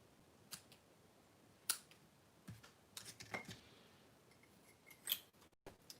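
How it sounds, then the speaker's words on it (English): Scissors snipping linen thread at a card-making craft table, a few sharp isolated cuts spread over quiet moments, close and faint. "I'm going to trim my linen thread"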